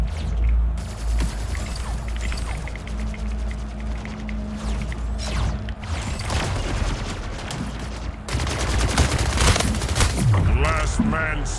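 Rapid gunfire from rifles and pistols in a round-based shooter game, bursts of shots crackling back and forth throughout, with a player's voice talking over the fighting.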